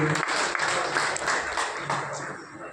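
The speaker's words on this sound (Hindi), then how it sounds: "जोरदार तालियां।" A crowd of party workers claps loudly at a political welcome where an MP is honoured with a turban, a sustained, busy round of applause.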